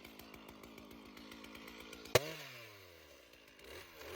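A chainsaw cuts up a slash pile of wood outdoors in the snow: a steady buzzing engine drone, a sudden sharp bite into the wood, then the engine winds down and idles.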